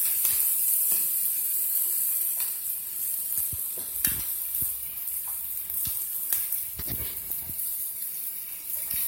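A whole onion frying in a pan alongside browned salmon, a close hiss of sizzling with scattered stirring scrapes and spatters, moderately loud, no speech.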